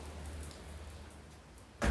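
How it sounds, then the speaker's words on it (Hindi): Heavy rain hisses and patters faintly throughout, with a sudden loud knock right at the end. "ये देखो, देखो कितनी तेज हो रही है बारिश"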